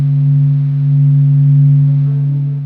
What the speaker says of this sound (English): scientists measured the changing light waves from the sun using an instrument called the Doppler graph, and the resulting audio was this